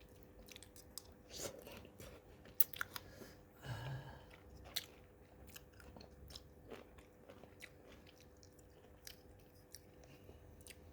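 Close, quiet crunching and chewing of a sour green mango salad, eaten by hand, with irregular bites and wet mouth sounds over a low background hum.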